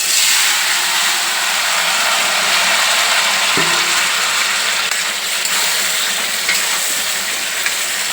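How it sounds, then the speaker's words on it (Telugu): Cut tomato pieces sizzle and crackle steadily in hot oil in a kadai, a dense continuous frying hiss with a soft clatter partway through. "నూనె వేడైంది కదా, ఇప్పుడు మనం కట్ చేసుకున్న టమాటా ముక్కలు వేసుకుందాం"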